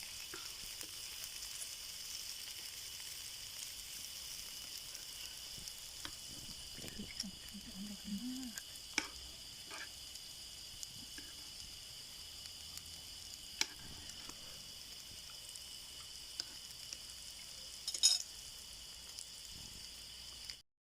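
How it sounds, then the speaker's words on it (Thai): Steady, quiet sizzling of pork frying on a hot tabletop grill outdoors by a rice field, with faint crackles and an occasional clink of utensils, no talking. "หมูกระทะร้อนๆ"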